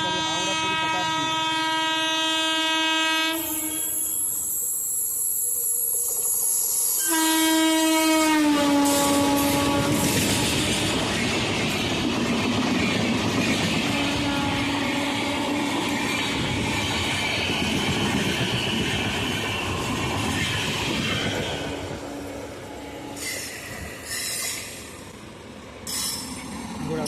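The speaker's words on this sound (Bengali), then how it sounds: "अभी सामने से आ चुका है ट्रेन नंबर 12277 हावड़ा से पूरी तरफ चलने के लिए हावड़ा पूरी शताब्दी।" Howrah–Puri Shatabdi Express, train 12277, rushes past with a sustained loud roar of rails and carriages, squealing wheels and a clickety-clack rhythm; a horn sounds with steady harmonic tones early on, and a voice speaks briefly near the start.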